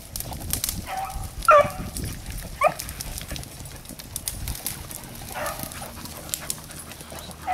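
Hunting dogs chasing marsh rabbits give a few scattered yelps and barks at a distance, mixed with outdoor rustling and a man's brief encouragement.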